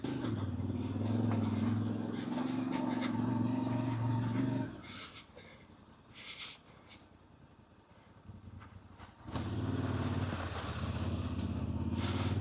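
A Voge 800 Rally adventure motorcycle rides off-road with a loud engine drone and wind rush that cuts out midway, leaving quieter rustling, before the engine roars back in for the final seconds.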